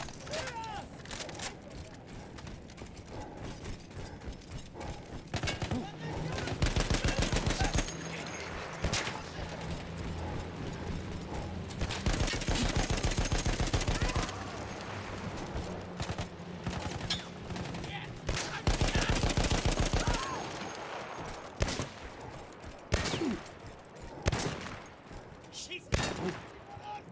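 In Battlefield 1, a World War I machine gun manned against Austro-Hungarian troops hammers out loud, sustained bursts, several long streams of rapid fire separated by quieter gaps, with voices talking in between.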